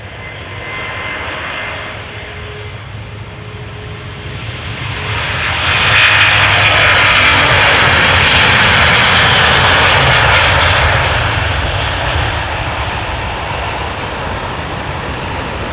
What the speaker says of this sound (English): flight 57 spooling up, you guys can hear it already